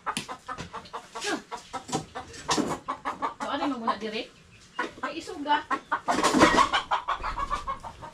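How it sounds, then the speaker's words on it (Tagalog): Chickens cluck intermittently in a rural yard, brief bursts mixed under near conversational talk throughout. "Daming mga manok pumunta"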